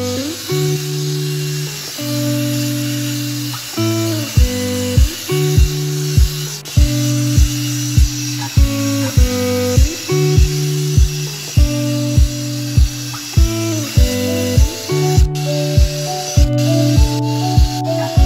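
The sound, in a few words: polishing disc on BMW X6 headlight lens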